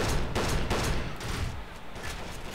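Sustained heavy gunfire fills the scene in the shooter game Kane and Lynch 2, dense bursts of overlapping shots rattling loudly and continuously without a break.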